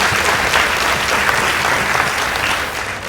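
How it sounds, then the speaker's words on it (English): Audience at a high school debate competition gives a round of applause, loud continuous clapping filling the whole stretch without a break. "Please give them a round of applause."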